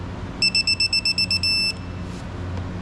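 A tool's electronic beeper sounds a quick run of about nine short, sharp, high-pitched beeps in an even rhythm, ending on one longer tone, close by over faint background noise during car sway bar link work.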